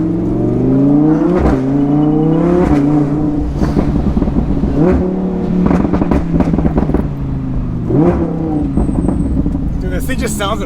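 Lamborghini Huracan LP-610 engine revving hard while driving, loud and close, with repeated rising and falling pitch sweeps as it accelerates through gears.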